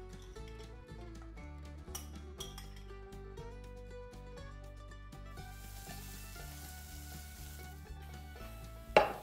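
Onion and garlic sauté in rendered bacon fat in a pan, giving a steady continuous sizzle with faint clinks and background music throughout.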